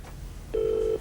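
A single electronic telephone ring tone, a short steady buzzing trill lasting about half a second after a quiet room moment, fairly clear and close.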